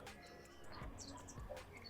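Great kiskadee calling outdoors on a hiking trail near a dam: several bright, repeated calls against a steady background hiss; the calls are moderately distant and sound clearly over the ambience.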